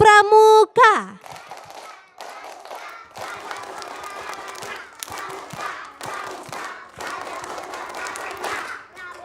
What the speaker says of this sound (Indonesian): Oke, kita sama-sama tepuk pramuka ya.